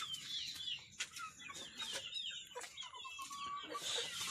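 Native country chickens clucking and chirping softly outdoors while feeding, several birds making short, scattered calls over a low background hum.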